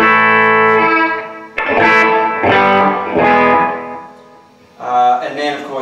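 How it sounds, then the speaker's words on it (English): An electric guitar played through a Minson Gecko delay pedal with a mix control, giving a few sustained chords whose repeats trail and overlap before a short final strum, loud and close. "I've got a delay called a Gecko, and this one's got a mix control."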